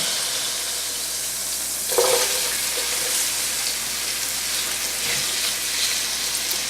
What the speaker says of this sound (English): we're going to add the vegetables to the oil